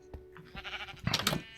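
Sheep bleats from a blocky Minecraft Sky Factory 4 world, short and fairly quiet, rising into a louder burst toward the end of a brief moment.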